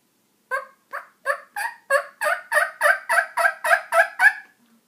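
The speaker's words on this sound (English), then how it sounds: "my favorite call with this is a yelp and a cluck and purr" A hand-operated turkey call yelps in a rapid series of about a dozen evenly spaced notes, growing louder, then ends with a faint soft cluck.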